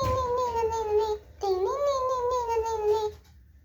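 Desktop pet robot EMO imitates a fox with two high, whiny electronic yelps, the second rising then holding steady, clear and close with no talk over it.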